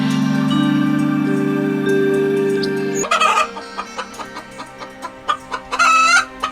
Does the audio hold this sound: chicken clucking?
yes